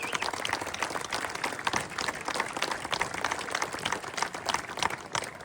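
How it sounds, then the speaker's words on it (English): A crowd at an Irish republican gathering in Dublin applauds a band from Derry, a sustained, lively patter of many hands clapping, fairly close and steady throughout. "Please give them a big round of applause."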